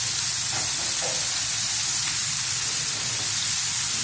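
Chicken wings fry in oil over medium heat, giving a steady, even sizzle and hiss that runs throughout with no talking.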